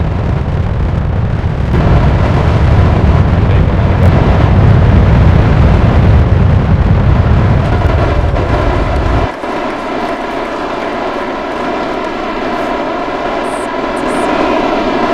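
A Falcon 9 booster landing in the Kerbal Space Program game, a loud, dense rocket-engine roar that fills the mix, then thins abruptly to a lighter, higher rumbling hiss as the burn ends.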